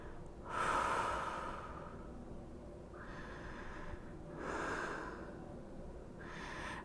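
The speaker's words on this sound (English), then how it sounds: "Take a deep breath here." Slow, deep breaths during a yoga stretch lying with knees hugged to the chest: a long close inhale and exhale, then two more audible breaths, soft and unhurried in a quiet room.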